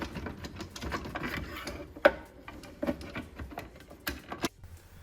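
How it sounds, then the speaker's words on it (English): Plastic housing of a Keurig coffee maker being slid back into place, heard as a run of close, light plastic clicks and scrapes with one sharper snap and a few later knocks, no talking. "we'll lift it up, slide the housing back"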